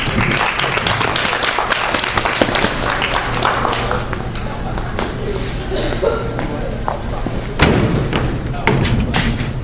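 An open mic audience applauds with dense, continuous clapping and a few heavier thumps, loud and close throughout.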